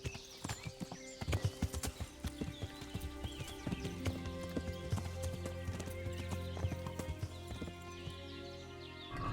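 Horse hooves clip-clop at a steady walking pace in the video game Kingdom Come: Deliverance, close and fairly loud over a layer of ambient game sound and tones, with an occasional whinny-like note.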